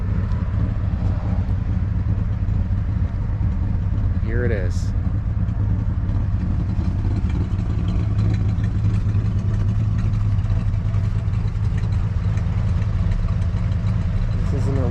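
A 1968 Dodge Super Bee sits idling with a steady, deep low rumble that runs unbroken from start to finish, while someone talks briefly over the engine near the start.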